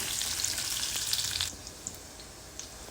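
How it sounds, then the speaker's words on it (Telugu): Pieces of ginger and garlic fry in hot oil toward golden brown, giving a bright, dense sizzle that quickly drops to a quieter crackle with a few scattered pops. "మనం కట్ చేసి పెట్టుకున్న అల్లం ఎల్లిగడ్డ ముక్కలను నూనెలో వేసుకొని మంచిగా గోల్డెన్ బ్రౌన్ వచ్చేట్టు వేయించుకోవాలి"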